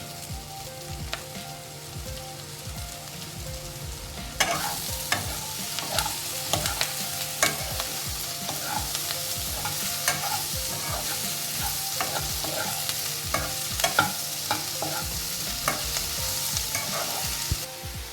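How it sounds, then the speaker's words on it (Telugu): Capsicum and onion stir-frying in a pan for a potato-capsicum curry, a continuous close sizzle with frequent rhythmic scraping and clacking of a spatula, no voices. "ఇప్పుడు క్యాప్సికమ్ని వేసి వేయిద్దాం."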